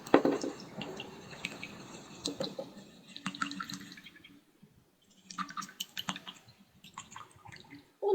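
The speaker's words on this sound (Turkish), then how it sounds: "Bir tatlı kaşığı tuzumu da ekleyip şöyle iyice karıştırıyorum." Water with a spoonful of salt stirred in a bowl, a close, soft sloshing and clinking that comes in uneven bursts, pauses briefly, then resumes.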